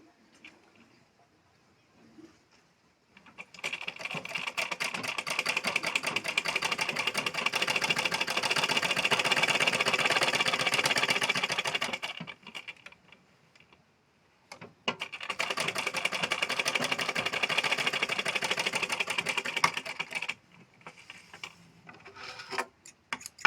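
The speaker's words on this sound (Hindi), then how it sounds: "ये सिलाई मार देते हैं।" Sewing machine stitching a blouse, a close, steady mechanical whirring hum that runs for several seconds, stops briefly, then resumes for another long stretch before stopping again.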